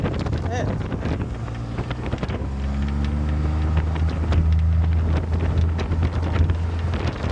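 A vehicle straining to move with the brake on, heard as a low droning groan with rising tonal whine over wind noise, as people talk nearby.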